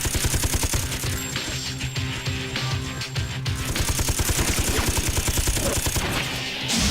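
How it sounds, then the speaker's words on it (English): Rapid machine gun fire from the video game Persona 3: The Answer, a dense, steady rattle of shots running nearly continuously and loud, with background music underneath. "She's got machine guns."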